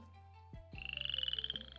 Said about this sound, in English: So I've added the crickets thing that we found last time.